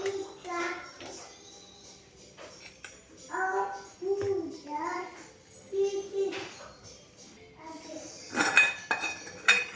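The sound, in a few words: transferring khajur pak onto a ghee-greased plate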